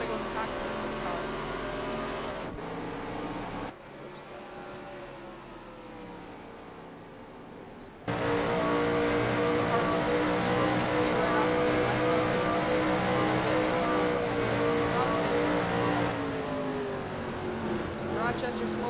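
Race car engine in a stock car racing video game at Kentucky, heard from the cockpit view: a loud, steady high-revving drone with a brief drop in level midway before it surges back, with commentary talk over it.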